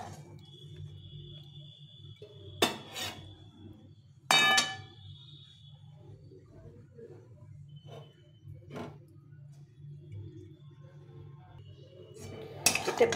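Spoon and metal utensils clinking against a pan while cooked potol is served, with a few sharp separate clinks and scrapes spread across a quiet kitchen and a low background hum.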